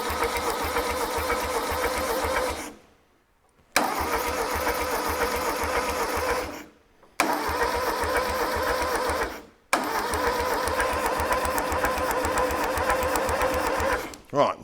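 A long-idle VW Beetle 1500 air-cooled engine is cranked on its starter motor in four long, loud bursts of rhythmic churning, each broken by a brief silence, with no catch or firing.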